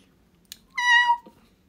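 A cat gives a single clear meow, short and rising then falling, close and alone in a quiet room, preceded by a faint click.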